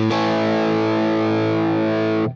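A single sustained electric guitar chord through both stacked channels of a Wampler Hot Wired v2 distortion pedal, thick and heavily saturated, ringing steadily at close range for about two seconds before cutting off abruptly.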